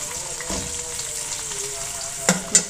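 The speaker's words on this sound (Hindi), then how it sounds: "इसमें हम प्याज शामिल कर रहे हैं" Onions hiss as they fry in hot oil in a kadhai (wok): a steady, even sizzle with two sharp clinks of a utensil near the end.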